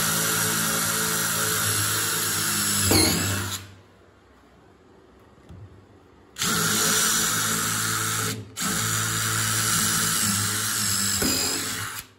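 A power drill bores a pilot hole for a lag bolt while a Swiss Madison wall-hung sink is being mounted, whining steadily in two long runs with a brief pause and a short stop between.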